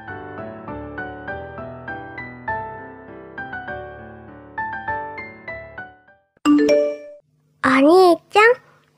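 A bright, tinkling chime melody plays for several seconds, followed by two short bursts of high, childlike voices.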